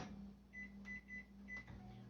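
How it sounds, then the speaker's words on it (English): Microwave oven running while heating food in a home kitchen, giving a steady low hum with a faint, intermittent higher whine over it. "going to pop this in the microwave for about 30 seconds to a minute"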